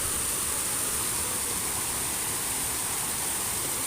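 Waterfall in a natural setting in Laos, a steady, even rush of falling water with no voices.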